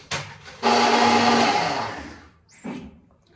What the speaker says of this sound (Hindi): तो मैं ये करता हूँ मिक्सी में पीस लेता हूँ